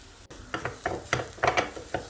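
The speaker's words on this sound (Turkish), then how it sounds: "Tekrar güzelce karıştırıyorum." A spoon stirring chickpea filling in a pan, giving a run of soft irregular scraping knocks and faint sizzle, close and without talk.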